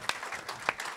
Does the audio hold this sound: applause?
yes